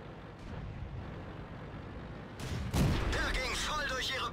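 A single tank cannon shot booms in World of Tanks, fired by a Pz B2 on the Steppes map. The blast hits sharply partway through, then rumbles on beneath a voice talking throughout.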